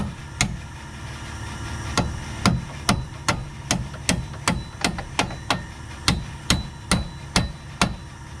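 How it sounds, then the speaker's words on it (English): Sharp metallic hammer blows ring out as bolts are driven into a Dodge Ram van's lower control arm, about fifteen evenly spaced strikes, close and loud with no voices. "Get you a hammer, beat them in all the way"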